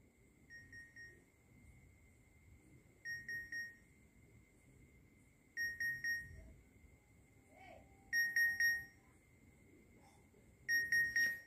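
Bluetooth earphones play their find-device alert: short bursts of high electronic beeps repeat five times at a steady interval, faint against a quiet, hissy room.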